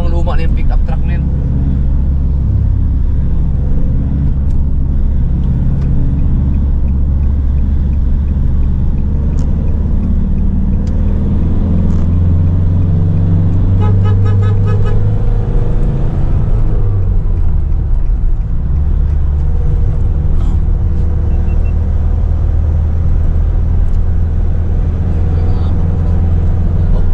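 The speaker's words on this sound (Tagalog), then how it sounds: "Lumang-luma na yung pick-up truck na yun." An old pick-up truck drives along near a river mouth, its low engine rumble steady and close throughout, with brief rising engine notes partway through.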